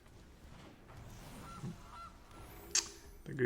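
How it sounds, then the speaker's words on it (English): A goose honks once, short and sharp, over quiet background sound during a Magic: The Gathering Arena match, with a fainter blip just after. "The goose is loose."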